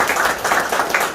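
A crowd at the opening of a provincial council candidate's election office gives a short burst of clapping, a quick patter of applause lasting about a second.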